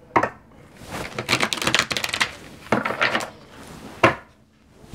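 Tarot cards being shuffled by hand in a quiet room: a series of crisp, papery riffling bursts with brief pauses between them, close up and fairly soft, no voices.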